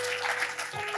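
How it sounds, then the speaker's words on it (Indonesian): A church congregation claps together in a brief, dense burst of applause that fills the room at an even level for about a second. "Yang setuju berikan tepuk tangan."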